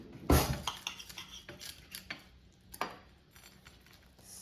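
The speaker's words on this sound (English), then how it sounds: "Let me just cut one to show you the inside" Cutlery scrapes and clinks against a plate while an air-fried frozen masala dosa is cut, beginning with one sharp loud clatter followed by lighter irregular taps and scrapes close by.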